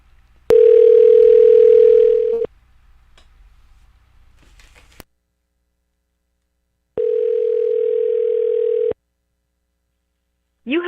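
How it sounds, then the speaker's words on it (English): Telephone dial tone sounding in two steady, loud bursts of about two seconds each, separated by near silence and a faint click, as a call to another number is placed. "All right, so now I'm going to call that other number."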